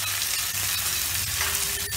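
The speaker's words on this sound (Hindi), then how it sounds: "अब इसमें हम काटा हुआ एक मीडियम साइज के टमाटर डाल देंगे" Chopped medium tomato sizzles as it drops into browned fried onions in a hot pan, a steady dense frying hiss with faint stirring ticks, close and continuous, no voices.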